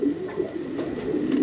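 Racing pigeons coo softly at their loft, low repeated throaty calls overlapping against a quiet background with no talking.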